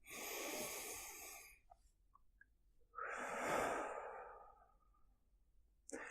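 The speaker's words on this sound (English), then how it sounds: "Take a deep breath in" A person draws a long, slow deep breath in, then another, close and soft with quiet pauses between, and no talking.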